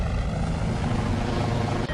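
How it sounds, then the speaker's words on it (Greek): Steady helicopter rotor drone, loud and close, with a continuous thudding churn filling the short stretch, no voices heard over it. "το ελικόπτερο. Γρήγορη είναι."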